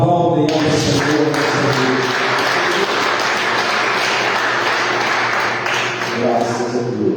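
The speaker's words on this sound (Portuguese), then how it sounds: "As colunas aplaudem ao Senhor." Church congregation applauding together to close a Portuguese-language worship service, a loud, steady wash of clapping lasting several seconds, with a voice and musical tones sustained underneath.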